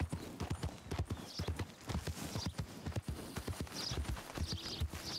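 Rapid, rhythmic hoofbeats of a galloping horse in Red Dead Redemption 2, close and steady, with a faint thin electronic chime now and then in the background.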